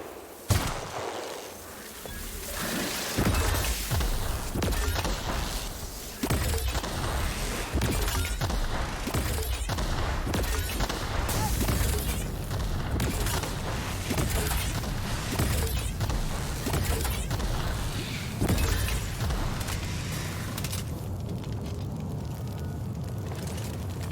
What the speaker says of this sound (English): Sometimes a plasma grenade launcher is the answer.